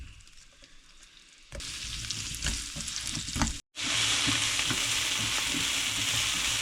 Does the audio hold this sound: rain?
no